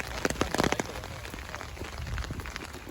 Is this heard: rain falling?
yes